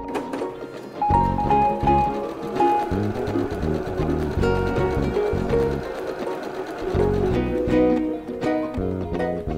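A sewing machine stitches a quarter-inch quilt seam, its needle chattering in a fast, steady rhythm that runs almost without pause, close and fairly loud.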